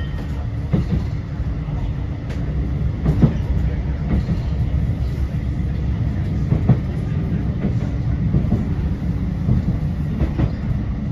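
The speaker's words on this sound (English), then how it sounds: "This tram is for Fleetwood Ferry." A Blackpool tram bound for Fleetwood Ferry rolls along the rails with a steady low rumble and periodic clicks as the wheels pass over joints, heard from inside.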